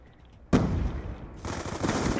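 Shotgun battle gunfire in a video game: a sudden loud blast opens a dense burst of rapid shots, a brief dip, then another sustained volley of overlapping gunfire, with no speech.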